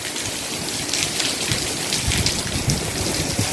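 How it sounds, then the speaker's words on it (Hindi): Heavy, steady downpour at a farmhouse in rural Punjab, Pakistan, during the rainy season, a dense continuous hiss of rain on surfaces close by with no voices. "ये देखिए आप फार्म हाउस पे खड़े हैं तो बड़ी शदीद किस्म की बारिश शुरू हो गई है।"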